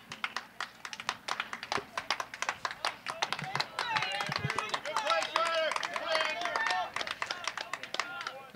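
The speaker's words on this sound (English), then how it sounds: "The crowd claps for Andrew." Spectators applaud at a high school boys varsity soccer match, steady rhythmic clapping from a modest crowd rising in the middle, under an announcer's continuous commentary.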